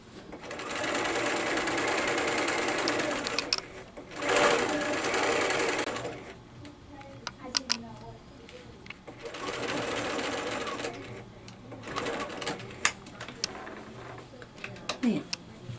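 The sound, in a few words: sewing machine stitching collar seam with back stitch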